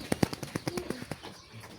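Quail birds close by give a quick run of soft clicks and wing flutters with a brief, faint chirping call, quiet and without talk.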